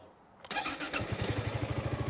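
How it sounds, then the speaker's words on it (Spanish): A Yamaha Tricity 300 scooter engine cranks briefly, catches and settles into a quick, even idle pulse, close and clear after a quiet start. "tú puedes sacar la moto del garaje, la bloqueas y la puedes arrancar"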